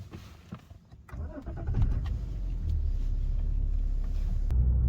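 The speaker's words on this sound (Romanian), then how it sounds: "Acum pot să pornesc motorul." BMW engine cranks and catches after a short quiet spell, then settles into a steady, close idle rumble that holds to the end; no one speaks.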